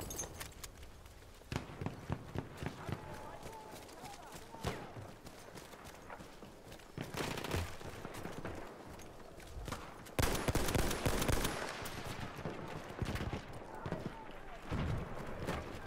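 Scattered gunfire bursts in the Battlefield 1 video game, sharp cracks and heavier clusters of shots from mid-range, mixed with footsteps and someone talking over the action.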